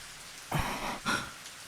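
Rain falling in the Higurashi visual novel: a soft, distant wash of rainfall with a couple of brief swells, faint and steady over a short stretch.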